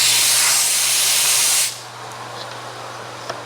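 Compressed air blasts debris out of the fins of an overheating tractor's radiator, a loud steady hiss that cuts off sharply partway through, leaving a faint quiet background.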